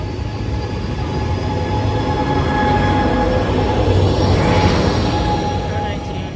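Train 3904 rolls past at Fullerton station with a loud, continuous rumble and rail noise close by, faint wheel squeal rising midway, and people talking under it.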